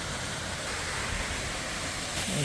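Steady broadband rushing of a pumped artificial waterfall at a Bangkok temple, an even continuous wash of falling water close by, with no voices.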